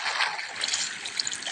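Water trickles and streams steadily in a hardcore-mode video game, a soft continuous splashing wash that stays close and fairly even throughout, with a few brighter droplet accents near the end.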